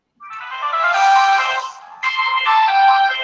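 A phone ringtone goes off at the end of a holiday webinar call, a bright melodic electronic tune played loud and clear in two phrases with a short gap between, and no talking over it.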